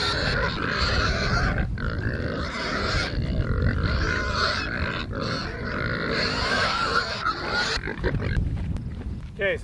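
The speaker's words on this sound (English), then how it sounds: "the time to fix anything in the pig net is when they're eating. They're so loud, man." Homestead pigs grunt and squeal loudly and continuously while feeding, a dense, close chorus of snorts and chewing with a brief voice near the end.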